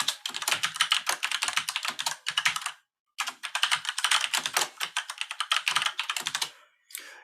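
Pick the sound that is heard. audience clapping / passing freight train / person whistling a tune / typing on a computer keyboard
typing on a computer keyboard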